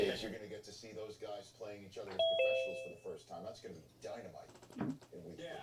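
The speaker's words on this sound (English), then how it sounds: "Who's ringing the bell?" A doorbell chimes faintly in a home, a short ringing tone partly buried under someone talking over it.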